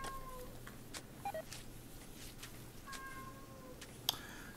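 A cat in a room lets out a few faint, short meows spread across a quiet background with a low steady hum.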